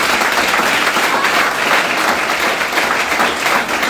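A church congregation applauding during a choir service, a dense, loud, sustained wash of clapping from many hands filling the room without pause.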